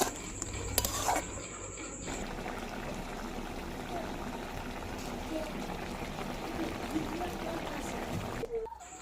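Lentil dumplings (bori) drop into a simmering vegetable curry in a pot, with a brief clatter and splash followed by a steady bubbling and stirring hiss that runs close and even throughout.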